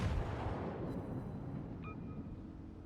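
A deep rumbling boom of naval gunfire and an explosion in the World of Warships game, from a battle against an aircraft carrier, decays over a few seconds, fairly faint, with a brief high tone near the end.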